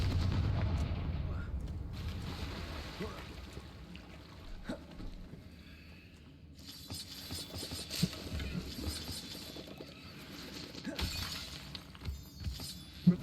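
A Confringo fire spell bursts with a crackling, shattering blast in Hogwarts Legacy, loud and close, followed by scattered crackles and debris hits over ambient game sound.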